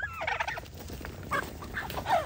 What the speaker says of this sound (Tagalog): Ito ating mga alagang pabo.